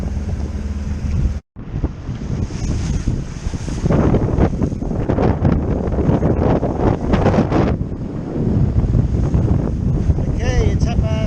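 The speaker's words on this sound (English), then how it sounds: "now we've got this beautiful 20 knot plus wind" Strong wind of over 20 knots roars across the microphone aboard a Nova 28 sailboat at sea, with loud continuous gusting, rushing water and a brief dropout near the start.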